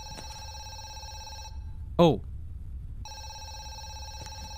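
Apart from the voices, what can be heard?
telephone ringing in video game Zoochosis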